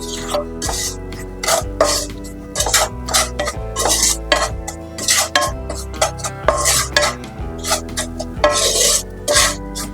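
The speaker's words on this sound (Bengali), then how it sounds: "মিডিয়াম থেকে একটু লো ফ্লেমে ঘিয়ের সঙ্গে কাজু বাদাম, কিশমিশ আর সুজিটাকে ভেজে নিতে হবে।" Cashews, raisins and semolina are stirred and fried in ghee over medium-low flame, with rhythmic scraping strokes against the pan repeating throughout under steady background music.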